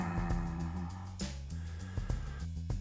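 Someone vocally mimics a car engine driving past with a Doppler shift, a buzzing drone whose pitch steps and bends downward over a few seconds, with small clicky accents.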